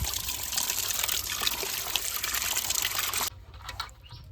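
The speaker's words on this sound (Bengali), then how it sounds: "এবার আবার ধুয়ে নেবো জল দিয়ে ভালো করে" Water runs and splashes steadily over a large rohu fish being washed by hand, a continuous close trickling gush that cuts off near the end into quieter drips.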